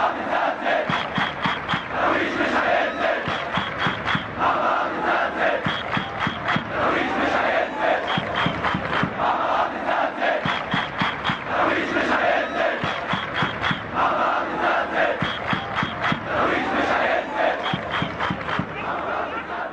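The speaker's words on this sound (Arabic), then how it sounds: "كان هتاف داعم للإسماعيلي نسمعه." A large crowd of Ismaily supporters chants in unison, a loud rhythmic roar with repeated sharp clapped beats recurring in cycles, sustained throughout.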